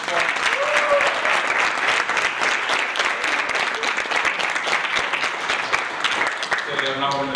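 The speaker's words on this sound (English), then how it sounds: "Let's clap her up first." Audience applause for a slam poet at a poetry slam, a sustained wash of many hands clapping with scattered cheers and voices mixed in, gradually thinning toward the end.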